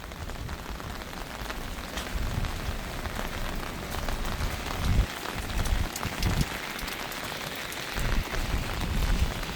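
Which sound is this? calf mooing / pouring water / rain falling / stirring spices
rain falling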